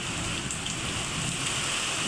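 Heavy night rain pours down in a dense, steady hiss during a thunderstorm, heard close and loud from beside a window, with no voices.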